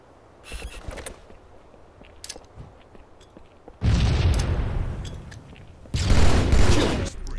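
Grenade explosions in the Halo 2 video game: two loud, heavy blasts with long rumbling tails, the second hitting harder, following a few quieter pops and rattles of earlier fire.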